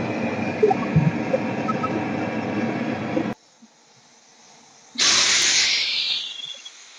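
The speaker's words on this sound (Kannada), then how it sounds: "ಇದನ್ನ ವಿಜಿಲ್ ಹೊಡ್ಸ್ಕೊಂಡ್ ಬರೋಣ" A pressure cooker boiling potatoes hisses steadily, falls nearly silent, then lets out a loud, close whistle blast that tapers away.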